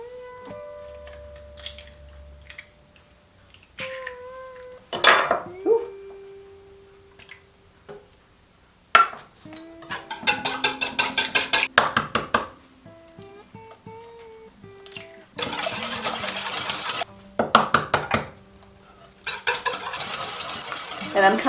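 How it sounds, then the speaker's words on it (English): A whisk beats eggs into chocolate muffin batter in a bowl, a series of fast, rhythmic scraping and clinking bursts against the bowl, broken by short pauses and a few sharper knocks. "I'm going to go ahead and whisk these together"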